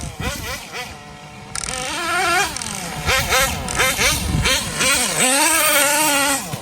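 Nitro-fuelled RC car engine revving high and loud as the car drives, its pitch repeatedly rising and falling with throttle changes, continuous and close without any talk.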